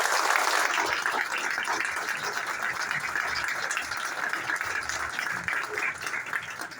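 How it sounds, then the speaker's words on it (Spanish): A crowd applauds warmly at a Venezuelan book launch and panel discussion on the Cantaura massacre, a steady, dense wash of clapping that holds for several seconds without easing. "para quien pido un caluroso aplauso"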